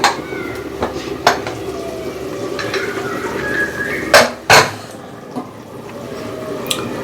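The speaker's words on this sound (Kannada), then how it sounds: "ಇವಾಗ ಮುಚ್ಚಿ ತೆಗಿತಾ ಇದ್ದೀನಿ." A lid comes off a pot of chicken biryani with loud metallic clanks and scrapes, among clinking cookware and a faint bubbling simmer in a home kitchen.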